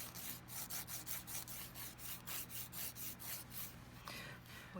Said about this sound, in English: When you're filing and tapering your edges, you're going to bevel around the cuticle area